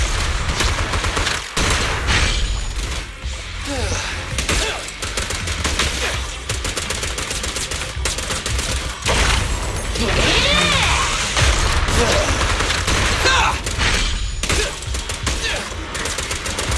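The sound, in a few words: gunfire in video game Zenless Zone Zero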